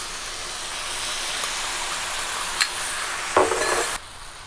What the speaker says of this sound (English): So we can start mixing everything together, and we can add our sauce